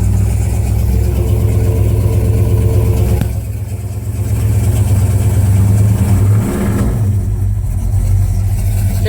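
Big block 454 V8 from a 1979 one-ton truck running just after starting on choke, a loud close rumbling idle with a brief dip and swell in engine speed.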